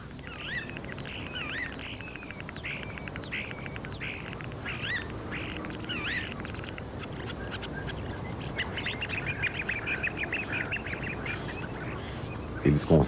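A starling runs through a string of mimicked calls of whimbrel, coot, tawny owl and oystercatcher, a series of short, close whistles and chirps spread across the stretch over a steady insect-like background hiss, with a voice narrating throughout.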